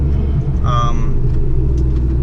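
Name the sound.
Bugatti Chiron car driving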